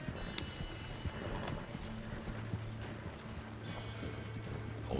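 Rhythmic hoofbeats of a horse in the video game Red Dead Redemption 2 Online clip-clop steadily throughout, with a faint low mechanical hum and occasional clicks underneath.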